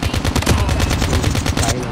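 Rapid bursts of video game gunfire crackle in a dense, loud stream of shots, like a machine pistol or automatic weapon firing continuously.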